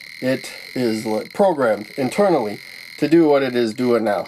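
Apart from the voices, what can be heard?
tone from 555 timer astable circuit with light dependent resistor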